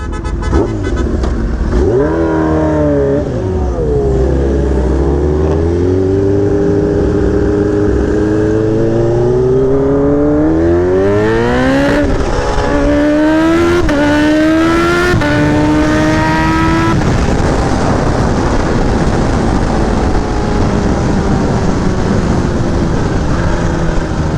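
A Kawasaki Ninja H2 motorcycle pulls away from a traffic light, its engine climbing hard in pitch through several gear changes. The loud, close exhaust note surges repeatedly, then settles into a steady roar.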